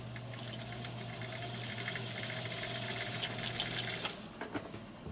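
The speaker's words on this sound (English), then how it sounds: "we'll step on the pedal and begin winding the bobbin" Singer 1924 treadle sewing machine winding a bobbin, a soft continuous whirring hum with a faint rhythmic rattle that fades near the end.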